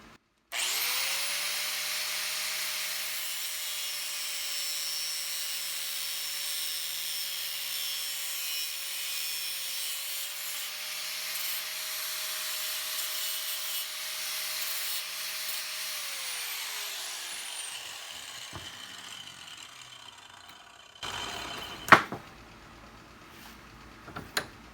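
A power tool cuts through part of a metal Jeep Wrangler door latch bracket with a steady, loud, high whine for about 16 seconds before spinning down, followed by a few sharp handling knocks.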